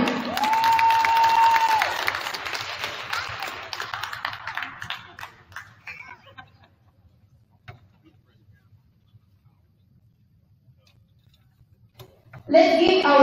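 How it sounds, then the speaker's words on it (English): A crowd applauds at a men's basketball game between the Frederick CC Cougars and the Hagerstown Community College Hawks, with a tone sounding over the clapping. The clapping fades into near silence before a voice resumes. "Let's give our sophomores a well-deserved round of applause."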